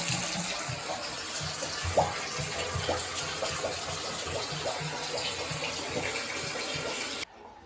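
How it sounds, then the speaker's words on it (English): Water runs steadily from a sink tap and drains into a bath, a continuous close rushing splash with small gurgles, alone, cutting off abruptly near the end. "Watch what happens when I turn on the tap here."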